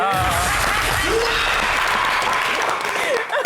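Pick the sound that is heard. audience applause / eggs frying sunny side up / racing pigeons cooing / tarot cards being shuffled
audience applause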